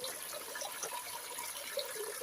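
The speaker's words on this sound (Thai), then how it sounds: "เปิดใช้ได้เลยสะดวกสบายครับ และน้ำไม่พุ่งกระเด็นมาหาตัวเราด้วยนะครับ" Water runs steadily from a homemade faucet fashioned from a plastic bottle, a soft continuous trickle and splash heard alone at low level throughout.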